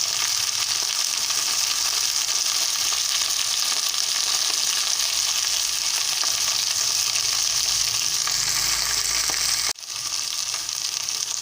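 Okra (lady's finger) fries in a pan for a Telugu-style okra and tomato curry, giving a loud, steady broadband sizzle throughout with a brief dip near the end, and no voices.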